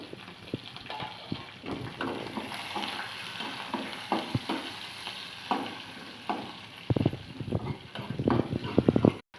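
Onions, green chillies and curry leaves fry in a hot pan with a dense, steady sizzle and scattered crackles, growing busier and louder at the end.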